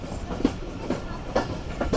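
The Jaffer Express, hauled by a Chinese locomotive, runs at speed on the rails, its wheels beating a steady clickety-clack over a constant rumble, with no talking.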